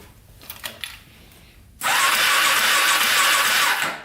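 A cheap quad's engine with zero compression is turned over with the carburetor open. After a few faint clicks, a loud, steady whirring drone starts abruptly and runs for about two seconds before tapering off, close to the microphone.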